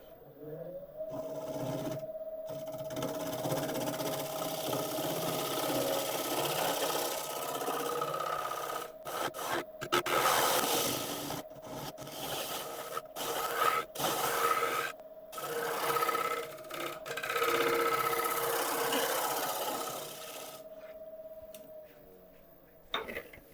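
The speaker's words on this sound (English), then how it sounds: "I'm just going to put a scraper across the bottom here to see how well it cleans it up" A scraper drags in long rasping strokes across the underside of a wooden piece, a steady scratchy rubbing with brief pauses, close and moderately loud with a faint hum beneath.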